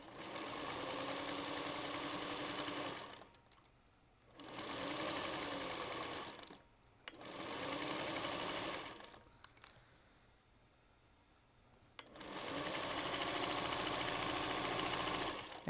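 A sewing machine stitches a bag in four loud, rapid-running bursts of several seconds each, separated by short quiet pauses.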